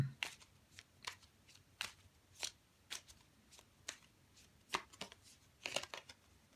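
Tarot cards being shuffled by hand, a series of crisp, irregular riffling snaps and papery flicks, close and fairly quiet, with no talk.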